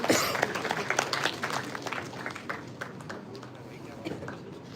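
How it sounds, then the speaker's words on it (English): Audience applause at a university event in a hall, greeting the speaker who gives the welcome address; scattered claps that are strongest at the start and taper off, with some voices underneath. "Everyone, please give him a warm round of applause."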